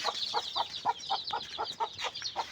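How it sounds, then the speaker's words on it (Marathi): A frightened reverse-feathered hen clucks as she runs away, giving a quick, rhythmic string of about ten sharp, close clucks in under three seconds. "कोंबडी मला घाबरून कशी पळते बघा"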